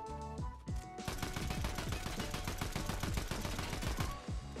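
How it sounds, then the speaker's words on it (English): A fast string of gunshots in Fortnite Zero Build, sharp repeated cracks in quick rhythmic succession, loud and close, with a brief pause at the start and game ambience underneath. "so I start taking shots"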